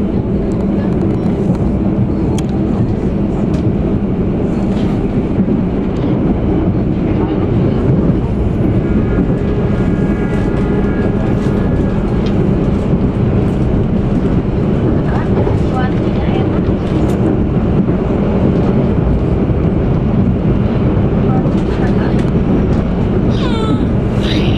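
The Papandayan passenger train rumbles past near the Al Jabar mosque at length, a loud continuous roar with clanking and squealing wheels, and a few faint voices in the background.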